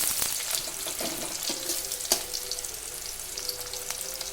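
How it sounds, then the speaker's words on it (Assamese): Onions frying in hot oil for an Assamese home-style fish dish, a steady crackling sizzle with occasional louder pops and stirring scrapes, close and continuous with no talk. "তেলখিনি গৰম হৈ আহিলে পিঁয়াজখিনি অলপ ৰঙচুৱা হোৱালৈকে ভাজিম"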